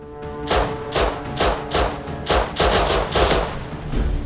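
Gunfire in the survival video game Rust comes as a rapid string of about eight loud, sharp shots at a fairly even rhythm, each with a short booming tail, and no voices are heard.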